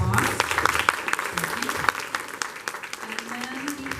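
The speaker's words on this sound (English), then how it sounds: "If we could give them all a round of applause." Guests at a monthly business luncheon give a round of applause, brisk clapping that starts strong and gradually thins out, with some voices underneath.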